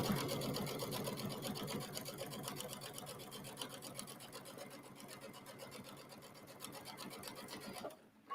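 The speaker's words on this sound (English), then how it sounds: "I'm just gonna sew to that 1/4 inch away." Sewing machine stitching fabric binding a quarter inch from the edge on a circular quilt piece, a steady rapid close mechanical whir that runs for several seconds and stops abruptly at the end, no talking.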